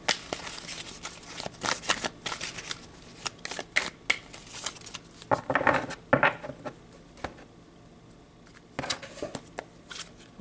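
A deck of tarot cards is shuffled by hand, close-up riffles and soft flicking bursts in irregular clusters with short pauses between, no talking over them.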